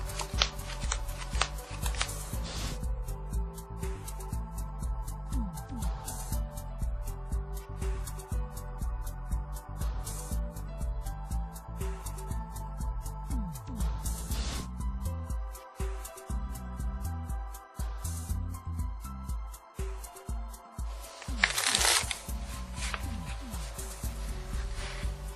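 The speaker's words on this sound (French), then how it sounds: "Le tricheur ici vole la carte du dessous pendant l'égalisation du mélange." Playing cards shuffled by a card cheat performing sleight-of-hand moves, a steady run of riffling and snapping card noise close up with a denser burst near the end, no voices.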